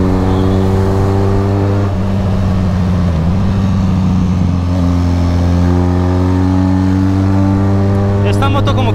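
A Benelli Leoncino motorcycle engine revs while being ridden, with a loud, steady tone that climbs in pitch through the gears and shifts, heard up close with talk over it.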